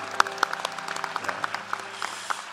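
Church congregation clapping during a Sunday worship service, a sparse scattering of individual claps from a modest crowd rather than a dense ovation, fairly close and moderately loud, fading toward the end.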